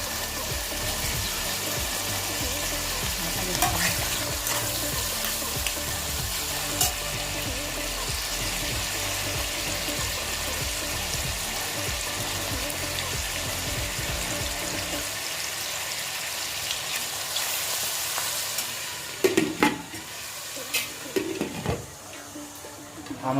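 Fat melting and frying under a lid in a covered pan for a non-veg ghugni, a steady close sizzle running throughout, easing off near the end where a few knocks and clatters break through.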